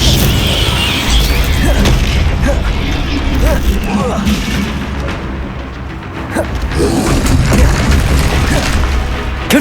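Repeated booming blasts of the Confringo fire spell in the Hogwarts Legacy video game on Xbox Series S, loud and dense over a constant clatter of battle effects and mechanical creaks.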